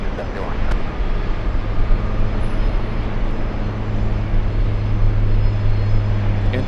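Rolls-Royce Trent 7000 jet engines spool up at an airport, a loud, steady roar with a low droning hum and rising tone, continuous throughout.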